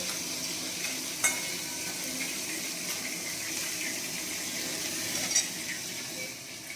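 Bhola fish frying in a pan of oil, a steady sizzle with a couple of sharp clinks from a utensil against the pan, fairly quiet and with no voices.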